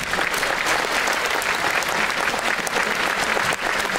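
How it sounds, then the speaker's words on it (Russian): Loud, dense applause from a concert hall audience at the anniversary concert of a song and dance ensemble. The clapping is steady and even from start to finish, and no one speaks over it. "Ваши аплодисменты."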